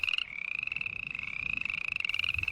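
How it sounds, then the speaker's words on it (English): Frogs croaking in a steady, continuous chorus of rapid trills, moderately close and loud, with no talking over it. "I swear to God, I hear the frogs croaking"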